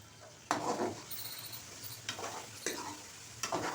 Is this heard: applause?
no